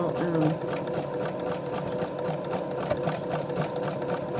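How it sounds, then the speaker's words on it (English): A Brother sewing machine stitches fabric and lace, making a steady, fast mechanical whir and rattle that runs the whole time at close range, with a person's voice talking over it. "this Brother machine has really, really good feeder feet"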